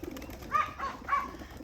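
Domestic pigeons coo in three soft, rounded notes at moderate distance, faint and isolated against quiet outdoor background during a bird release.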